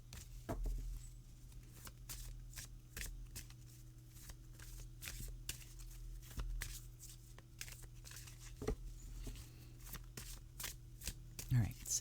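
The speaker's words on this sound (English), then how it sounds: "now I'm going to focus and shuffle." Tarot cards are shuffled by hand in repeated quick riffles and soft slaps, close and fairly quiet, with brief pauses between passes.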